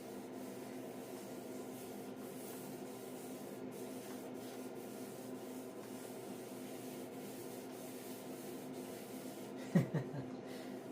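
Steady rubbing of wet sanding on white paint on a Farmall 450 tractor continues at low volume, ending with a short knock and clatter near the end; no one speaks.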